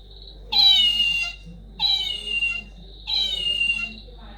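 Three drawn-out cat meows, each lasting under a second with short pauses between, clear and close against a quiet background.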